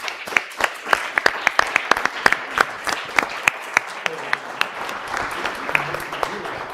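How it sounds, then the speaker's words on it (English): Applause for panelists at a Venice urban conference session, many hands clapping with sharp individual claps rising above a steady crowd patter, tapering off near the end while voices murmur underneath. "Please, let's give them a big round of applause."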